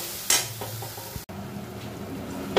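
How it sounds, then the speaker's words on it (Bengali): Masala with salt, turmeric and chili powder stir-fried in a pan for mixed veg with paneer, a close sizzle with scraping spoon strokes and a sharp clack midway. "দিয়ে খুব ভালো করে মশলাটা কষিয়ে নেব।"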